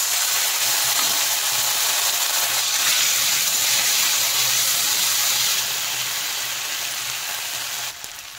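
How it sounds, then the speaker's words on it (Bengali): Dried red chillies, panch phoron and nut paste crackle and hiss in hot oil, a steady broadband sizzle close up that runs continuously and eases slightly toward the end, with no voices. "এখন আমি তেলে দিয়ে দেব শুকনো লঙ্কা আর পাঁচফোড়ন। দিয়ে দিচ্ছি বাদাম বাটা।"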